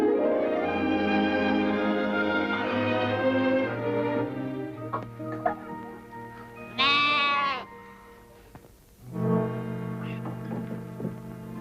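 Lambs kept behind a farmhouse stove bleat in a series of close, loud, wavering cries, one after another with brief pauses, the last calls trailing off.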